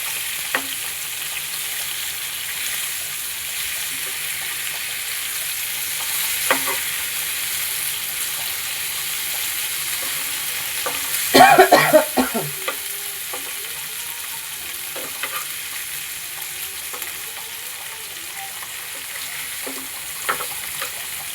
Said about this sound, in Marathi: मस्त परतून घेऊया सर्व